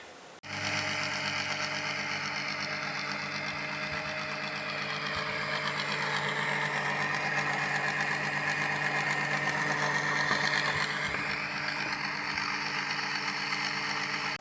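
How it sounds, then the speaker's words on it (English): A 12 volt electric pump drawing biodiesel out of a drum into a jerry can runs as a steady, close, even motor hum with a faint whine for about fourteen seconds, with no talk. "a 12 volt electric pump that pumps it out of that drum"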